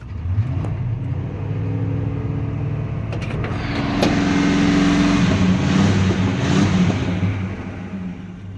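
A 1985 Chevy Silverado C10 pickup truck's engine cold-starts and revs, a loud, steady rumble throughout that swells in the middle as the throttle is raised, then eases slightly near the end, with no talking.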